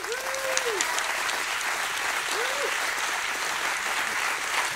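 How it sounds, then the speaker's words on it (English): Event audience applauding at a product launch, an even sustained patter of many hands at moderate distance, with a couple of brief whooping cheers rising over it. "Another round of applause."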